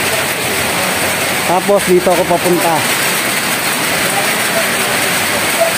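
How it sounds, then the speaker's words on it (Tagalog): Heavy rain falls steadily during a drive on a Philippine road, a dense roar of drops hitting the vehicle that holds constant throughout, while someone talks briefly underneath. "kaso medyo lumakas ang ulan"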